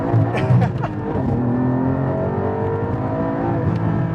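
A Porsche 718 GT4 with a 4-litre engine revs hard and close, rising sharply and then holding a loud, steady, high engine note, with a brief voice near the start.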